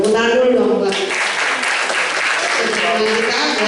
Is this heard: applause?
yes